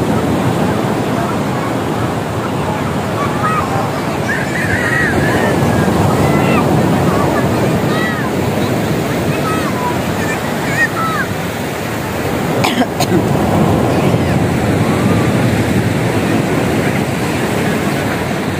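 Steady roar of surf breaking along a shore, with gusty wind buffeting the microphone throughout.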